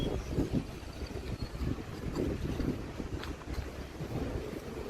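Wind gusting outdoors beside the Susquehanna River, rough buffeting rumble across the microphone in uneven surges, steady throughout with no speech.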